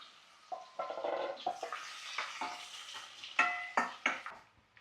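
Ginger and garlic being stirred in a hot pan for a Kerala prawn pickle, with intermittent scraping and clinking of a spatula over a soft sizzle, a close, uneven rhythm of strokes.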